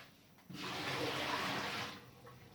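Water rushes and pours for about a second and a half while a warped vinyl record is being repaired, a loud broadband gush that starts abruptly and then fades back to quiet.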